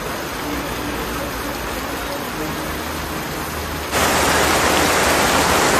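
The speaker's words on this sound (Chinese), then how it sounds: "头顶上的这片乌云就飘过来，现在就开始下大暴雨" Heavy rainstorm pours down around a beach shelter in Singapore, a dense unbroken hiss of falling rain that suddenly swells louder and harsher near the end.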